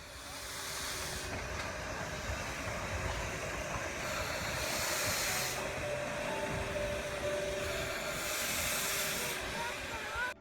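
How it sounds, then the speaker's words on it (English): A steam train in Kyoto, Japan, rumbles steadily, with loud hissing bursts of steam rising and fading every few seconds over the constant mechanical noise. "You could pay a fair amount of money to every half hour to ride on this steam train"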